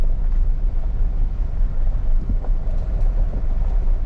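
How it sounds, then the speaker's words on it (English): A 2023 Infiniti QX80 engine braking while heading downhill on a forest road, a steady low drone of engine and road rumble held close throughout, with no talking. "I'm gonna see if I can take advantage of a little engine braking."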